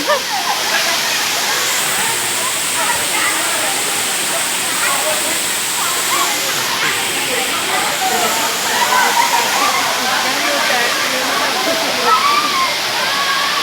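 The Sarugudu waterfall roars nearby in a loud, constant wash of falling water that carries on without break.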